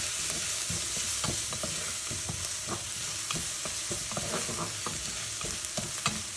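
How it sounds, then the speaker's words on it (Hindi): Garlic lightly frying in hot oil for beef nihari gives a steady, close sizzle, broken by repeated scraping stirs of a spoon in the pan, with no voices. "गार्लिक को हमने बिल्कुल लाइट सा फ्राई करना है"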